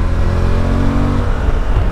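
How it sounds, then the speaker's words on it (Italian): A Suzuki V-Strom 1050 XT motorcycle engine pulls strongly under acceleration, a loud continuous low drone that smoothly rises in pitch, heard up close while riding. "Senti che bel motore che ha."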